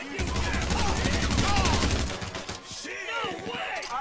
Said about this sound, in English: I've shot him down like 10 times, he's still getting up.